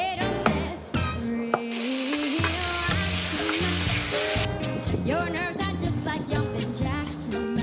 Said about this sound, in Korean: 속꼬리를 끓였던 냄비에 감자, 콩과 함께 미리 간을 맞춰놓은 붉은 스프를 붓는다.